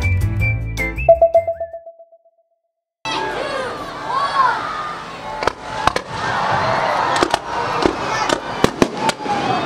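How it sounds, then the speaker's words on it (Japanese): A fireworks display in Hawaii: after a brief pause, repeated sharp bursts and crackling pops ring out at irregular intervals over a continuous crowd murmur, loud and fairly close. "花火をフルで見たい方は動画概要を参照してください。"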